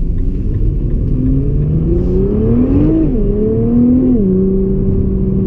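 A 2017 Nissan GT-R accelerating along a coastal road, heard from inside the cabin as a loud steady engine drone rising and falling in pitch through gear changes, with no talk.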